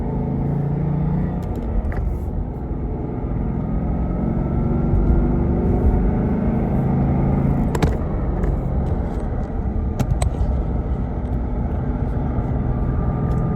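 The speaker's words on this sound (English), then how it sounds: "Okay, so we're gonna get up to about 40 in quiet mode." Inside a Ford Mustang GT fitted with an Armytrix exhaust in quiet mode, the engine drones as a low, steady rumble while the car accelerates, with a few faint clicks and no talk.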